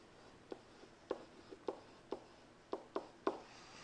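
Chalk taps and scratches on a lecture-hall board in a sparse, irregular rhythm of about nine distinct strokes. The writing is faint and a little distant, with no talk over it.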